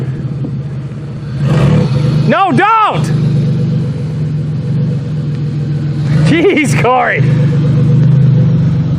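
A 2002 Buick demolition derby car's engine rumbles loudly and revs as it drives about, a heavy continuous roar with a rise partway through, while people shout over it.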